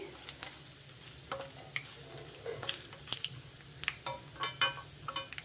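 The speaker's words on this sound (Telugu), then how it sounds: "కొంచెం మినప్పప్పు కొంచెం జీలకర్ర ఇవి కొంచెం వేగాలి" Urad dal, chana dal and cumin seeds fry in hot oil in a pan, giving a soft steady sizzle broken by frequent small crackles and pops, with a spoon stirring now and then.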